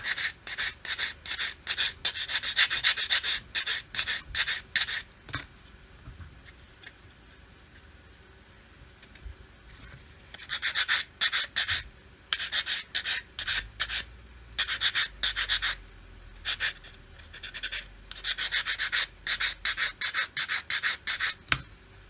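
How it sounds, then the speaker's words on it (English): Hand sanding on wood: bursts of rapid, rhythmic rasping strokes, close up, with a quiet pause midway before the scrubbing resumes. "Come along and sand on the bottom of here just to square it all up."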